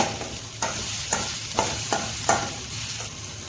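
A full handful of curry leaves frying in hot oil for an onion chutney, a continuous close sizzle with a regular series of stirring scrapes roughly every half second, no speech.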